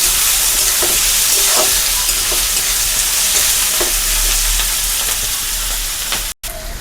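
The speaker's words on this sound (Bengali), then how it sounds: "আদা রসুন ভালোভাবে ফ্রাই হওয়ার পরে" Ginger and garlic fry in a pan with a loud, continuous sizzle and hiss and a few soft scrapes, close up and without speech, cutting off briefly near the end.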